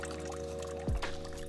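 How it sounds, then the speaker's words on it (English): Hydroponic nutrient solution poured into water in a home vertical garden setup, a short soft splash and trickle lasting under a second over a quiet, faintly humming room. "I'm just adding some all-purpose hydroponic nutrient solution to the water here."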